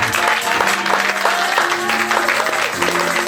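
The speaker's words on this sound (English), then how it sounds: "If you are clapping for Jesus, you can do better." A congregation applauds at a church service, clapping mixed with crowd voices and a held musical tone underneath, loud and close.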